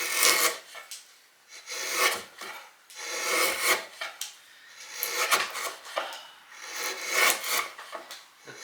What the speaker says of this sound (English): The pleasures of pine and a sharp chisel.